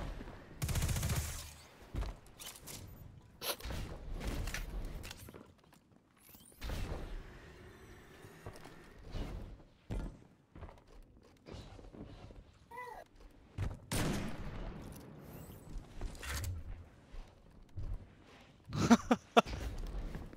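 Bursts of gunfire from a video game shooter in a one-on-one match, scattered short volleys with gaps between them, some sharp and close, mixed with a few faint game sounds.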